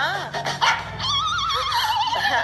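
A dog barks and yips with high, whining cries, close by and fairly loud, continuing throughout.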